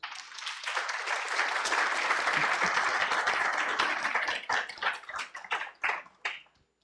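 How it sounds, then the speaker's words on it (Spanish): Audience applause at a human rights conference panel, dense sustained clapping from a crowd that thins out into scattered claps and fades near the end. "Un aplauso para Narda, por favor"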